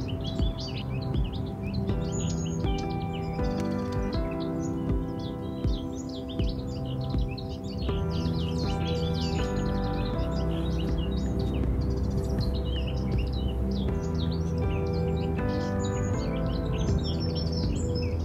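Wild birds feeding on a mass of sawfly larvae, giving many quick high chirps and tweets scattered throughout, over a steady layered background hum.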